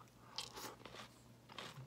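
Crunchy green tomato pickles chewed up close, with a few crisp bites and wet crunching over low background hum, brief and quiet.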